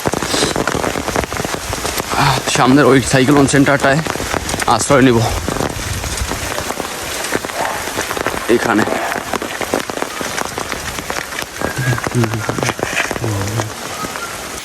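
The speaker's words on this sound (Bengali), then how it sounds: "আমি এই প্রচণ্ড বৃষ্টির মধ্যে" Heavy rain drums hard and close, a dense roar carrying on beneath someone speaking for most of the stretch.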